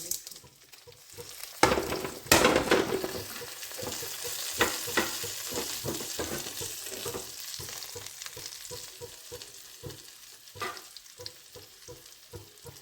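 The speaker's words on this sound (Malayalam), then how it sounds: "ഇനി നമുക്കൊന്ന് വഴറ്റെടുക്കാം എല്ലാം ഒന്ന് ഇളക്കി മൂട്ടിച്ചെടുക്കാം" Ingredients for tomato rice being sautéed and stirred in a pan: soft sizzling beneath quick, repeated scraping and tapping of a spoon against the metal, with a few louder knocks early on, close and fairly quiet.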